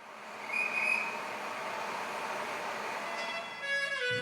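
A Dalat to Trai Mat tourist train pulls out of the station with a steady rolling rumble, a brief high whistle tone early on and squealing metallic tones near the end; no talk.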